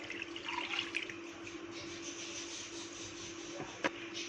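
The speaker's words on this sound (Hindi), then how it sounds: "अब आप इसमें इतना पानी ऐड करें कि जो आपकी चॉप्स हैं वो अच्छे से गल जाएं।" Water is poured into a pot of beef chops and spices, giving a steady splashing trickle for several seconds that ends in a brief sharp clatter.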